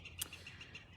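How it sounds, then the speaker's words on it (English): Faint birds chirp outdoors in a brief moment, with a few short high calls over quiet background. "You can hear the birds are chirping"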